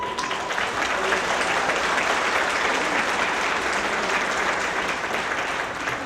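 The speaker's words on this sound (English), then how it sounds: "please give your applause to Jabari Lachelle." Steady audience applause fills a lecture hall at an evening lecture series event, a dense, even wash of clapping holding at full strength for several seconds with crowd noise mixed in.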